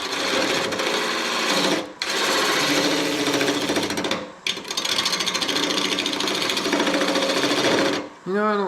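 A skew chisel scrapes and chatters against spinning wood on a lathe, a rough, rasping, rhythmic cutting noise broken by two brief pauses, close and fairly loud.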